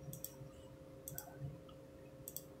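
An Epson printer gives off quiet, sharp mechanical clicks in three short evenly spaced bursts over a low steady hum, heard close and alone.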